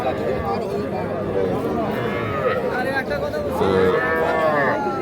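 Young Sahiwal bull calves moo repeatedly at Ambari cattle market, a few moderately close calls rising over a steady din of crowd chatter and people talking nearby.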